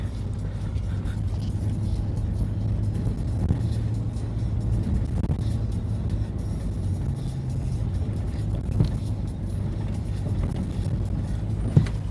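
A high-powered car climbs a steep, bumpy hill road in Mongolia, its engine a steady low rumble that holds for the whole stretch with slight rises in pitch, close and continuous, with no talk over it.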